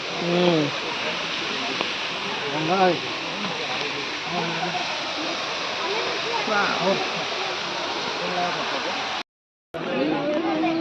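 Water gushes steadily from a large fountain at Mysore Zoo, a constant loud hissing rush filling the clip while people talk over it.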